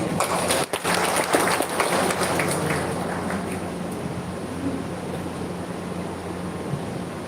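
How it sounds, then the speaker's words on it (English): Festival audience at a Konyak Aoleang celebration in Kerala breaks into dense, lively hand clapping that is loudest in the first few seconds, then thins and fades into a softer background murmur. "Let's all clap our hand."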